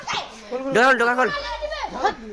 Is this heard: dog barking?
yes